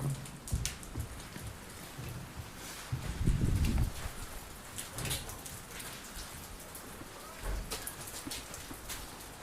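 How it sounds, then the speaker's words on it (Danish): Rain comes down steadily in a continuous hiss, with heavier gusts and rustling swells now and then, and no voices heard. "Ej, hvor der regner."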